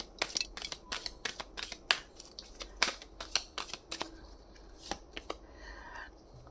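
Tarot cards being shuffled, a quiet series of crisp papery snaps and flicks in an uneven rhythm, close and alone with no talking.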